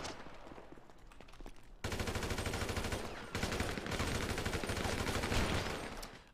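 Video game gunfire in a competitive shooter match, loud automatic bursts starting after a quieter stretch, with dense rapid shots continuing and briefly pausing before resuming.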